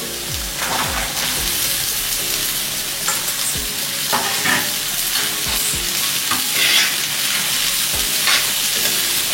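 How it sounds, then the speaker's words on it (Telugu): Chopped broad beans fry loudly in a hot pan, with a continuous sizzle and repeated clattering stirs of a spoon, close up. "దాని తర్వాత మనం కట్ చేసి పెట్టుకున్న చిక్కుడుకాయలు, ఈ చిక్కుడుకాయలు వేసేసుకోవాలి"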